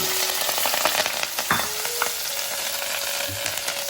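Onion and whole spices such as cloves and cardamom sizzle loudly in hot oil for a tempering, a steady close crackle with a few sharp stirring clinks and pops.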